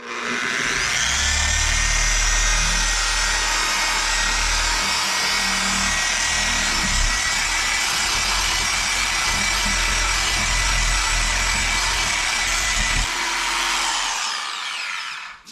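A machine polisher capable of 4,200 RPM runs cutting compound over 38-year-old, very dry car paint, a loud continuous high whir with a low grinding underneath that cuts off near the end.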